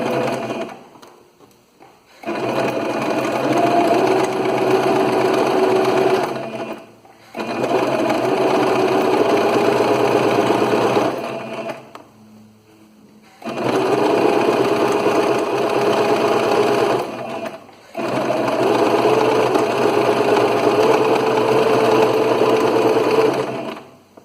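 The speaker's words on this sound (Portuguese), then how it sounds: "E vamos lá começar a nossa costura." Sewing machine stitching a half-centimetre seam with a small stitch to make custom bias tape, running in four long, loud, steady bursts of whirring with brief stops between them.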